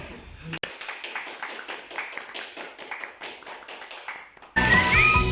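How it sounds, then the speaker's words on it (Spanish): A studio audience on a Spanish-language television show applauds in a steady, dense patter of many hands, carrying on for several seconds before a sudden switch to louder music and sound. "Aplausos, por favor."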